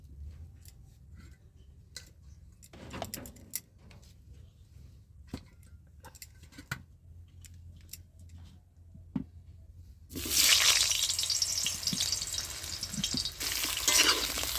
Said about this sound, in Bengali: তেলের মধ্যে আলুটা দিয়ে আমি ভেজে নিচ্ছি